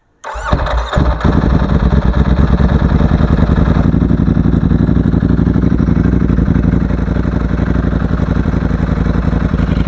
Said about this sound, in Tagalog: So ito yung tunog ng Ducati na V4S